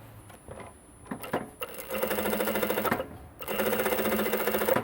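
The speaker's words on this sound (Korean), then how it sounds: "스티치 작업을 하고 어깨 정리를 하면 되는 겁니다. 자, 스티치 작업을 해 보겠습니다." A sewing machine stitches a seam on a men's jacket, with quiet handling at first, then two loud bursts of rapid, even stitching, close by, with no talking.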